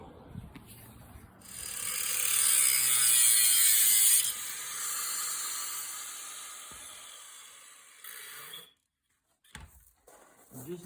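A grinder cuts into metal parts of a Honda Goldwing motorcycle being revived, giving a loud, close, hissing high-pitched grind that lasts several seconds, eases off, briefly returns, and then stops.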